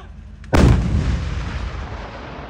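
A 155 mm towed artillery gun fires a single loud, close blast at the Khao Phu Lon army firing range in Thailand, followed by a long rumbling decay that lingers over the rest of the moment.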